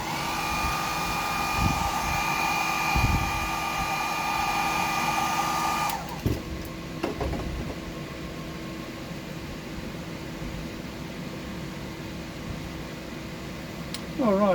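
A hair dryer blows a steady loud rush of air while drying paint on a deep-diving fishing lure. It switches off partway through, leaving quiet room tone with faint handling noises.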